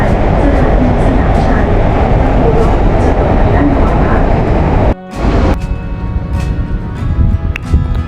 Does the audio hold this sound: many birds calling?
no